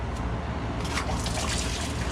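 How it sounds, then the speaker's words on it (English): Water trickling and dripping out of a removed pool filter part, a modest, steady splashing flow that stays close and fairly quiet throughout, with no voices. "So not a lot of water, but some water comes out."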